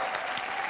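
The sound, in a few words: audience applause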